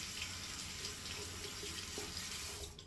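Tap water running steadily into a sink while rinsing after a shave with a safety razor, a soft, continuous splashing flow heard close but at low volume throughout.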